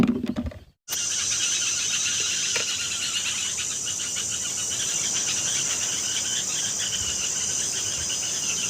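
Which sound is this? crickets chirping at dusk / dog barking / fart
crickets chirping at dusk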